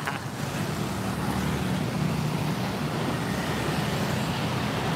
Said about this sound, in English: And now my Indonesian wife is stuck in the middle of Indonesian traffic.